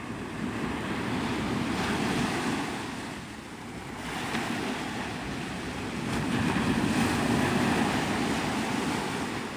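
Ocean waves rolling onto Navarre Beach, Florida at sunrise, a continuous broad wash of surf swelling and easing with light wind noise on the microphone, no voices.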